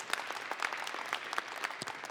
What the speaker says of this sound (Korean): 따뜻한 박수로 보내드리겠습니다.